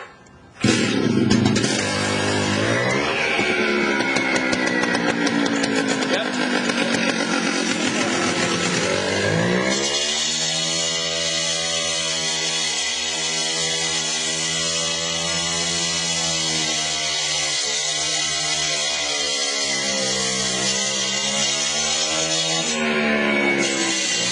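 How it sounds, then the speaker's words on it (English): A gas-powered demo saw cuts through flagstone joints, its motor revving sharply and then holding a loud, continuous high-pitched whine with slight pitch changes as the blade bites into the stone. "we'll show you the demo saw next"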